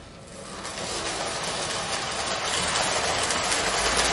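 A Lionel Lines 4-4-2 model freight train runs on its track, giving a steady, dense mechanical rumble and whir that builds slightly and holds at a constant loud level throughout, with no voices.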